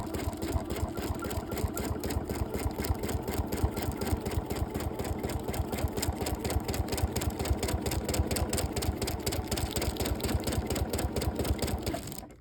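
Sewing machine free-motion quilting around a rose pattern, running in a steady fast needle rhythm with a mechanical hum, close and continuous until it stops right at the end.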